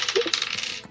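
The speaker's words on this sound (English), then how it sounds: "the sound of dice." A die being rolled at a tabletop role-playing game, a quick run of small hard clicks and rattles as it tumbles and bounces across the table before settling, close and brief.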